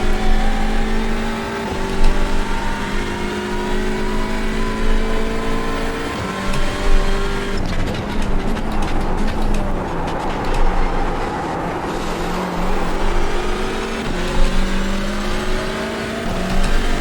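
Race car engines at Knockhill in iRacing, with a Hyundai Elantra TCR in the field, drone continuously and loudly, their pitch rising and falling through gear changes as several cars pass and overlap.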